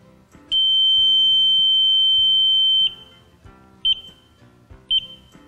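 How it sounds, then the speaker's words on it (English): A short-circuit tester on a truck trailer connector lets out one loud, steady high-pitched beep lasting over two seconds, followed by two brief chirps. "The long beep indicates a short occurred."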